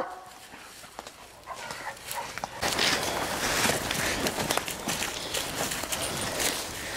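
A bluetick coonhound out on a coon hunt, with a dog's bark and whimpering noises mixed into footsteps and rustling movement; the activity becomes louder and busier after a few seconds, with faint voices in the background.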